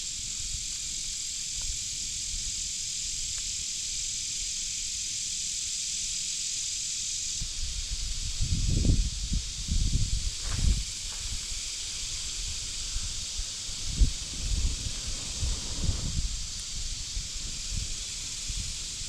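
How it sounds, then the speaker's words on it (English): Tinder catches fire outdoors in the wind, with a steady breathy hiss of wind throughout and, later, soft irregular crackling and rustling bursts from the flames, fairly faint and close. "Looks like our tinder's catching."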